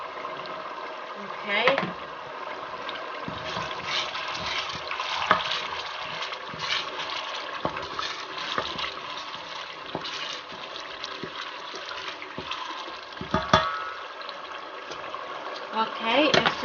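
Tomato puree frying and being stirred in a pot while jollof rice with prawns is cooked, a steady sizzle with occasional scraping clatters and a brief spoken word.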